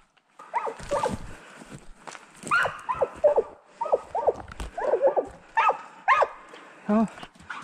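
Several sharp dog barks in quick succession during a badger hunt, fairly close and loud, with scattered yelps and some rustling between them.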